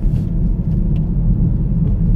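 A GM car passes on a Dallas street, a steady low rumble of road noise and engine holding at a constant level throughout, with no clear approach or fade.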